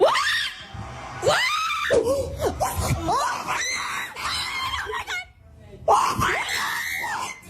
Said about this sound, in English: This is a montage of kids freaking out when they hear that.